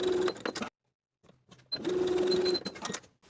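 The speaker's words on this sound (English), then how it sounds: "Then I'll baste those short edges of the tie in place with a 1/4 inch seam allowance." A sewing machine bastes the short edges of a dress tie in place, running in quick bursts of rapid whirring stitches with a short pause between, close and clear with no talk.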